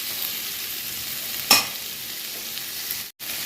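A spoon stirs a tomato, onion and spice masala for chicken fry, a soft scrape over a steady low sizzle, with one brief clatter midway.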